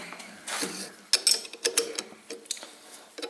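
Nuts being turned with a wrench on a Minsk motorcycle, a close series of sharp metallic clicks and ratcheting ticks in an uneven rhythm over a few seconds.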